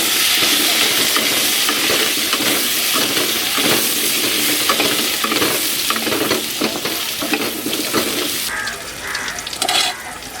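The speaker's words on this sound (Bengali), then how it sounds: "তো আলুগুলো ফ্রাই করে নিচ্ছি। একটু দিয়ে দিচ্ছি হলুদ গুঁড়ো" Potatoes cut for a mutton dish fry in oil with turmeric powder, giving a loud, steady sizzle with continuous stirring and scraping, the hiss thinning slightly near the end.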